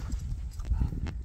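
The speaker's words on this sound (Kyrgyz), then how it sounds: "Жануар чоң жылкы экен." A large horse's hooves clip-clopping on the ground: a short run of several close, thudding steps in about a second, with no speech.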